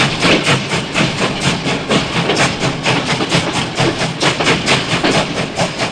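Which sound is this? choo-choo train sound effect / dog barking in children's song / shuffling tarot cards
choo-choo train sound effect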